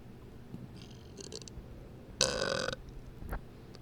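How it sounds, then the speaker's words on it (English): A man's single loud, drawn-out burp, close to the microphone, following a few quieter mouth noises, with a brief sound after it. "That was a fucking good burp"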